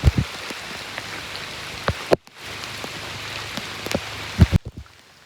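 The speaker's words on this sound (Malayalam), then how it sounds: "നല്ലതായിട്ട് മഴ നനയുന്നുണ്ട് നല്ല വെള്ളം വീഴുന്നുണ്ട്" Steady heavy rain hisses down on a surface, with occasional louder drops and brief bumps, no voices.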